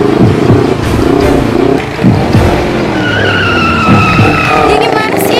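A motorcycle ridden recklessly at a road safety festival in Aceh Singkil: a loud engine roars and revs with tire skids and squeals, and voices talk over the din.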